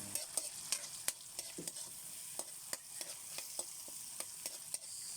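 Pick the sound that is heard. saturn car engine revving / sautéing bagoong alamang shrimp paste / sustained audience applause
sautéing bagoong alamang shrimp paste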